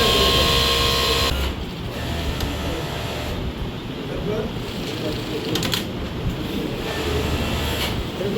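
A sewing machine stitches a pocket join on folded fabric, giving a steady mechanical buzz with short pauses, while a person talks over it.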